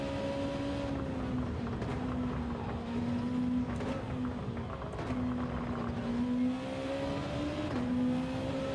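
Sustained engine drone of a racing car in Gran Turismo 7, with a steady mid-pitch tone that dips and climbs as gears shift through an early upshift, loud and continuous with no talk.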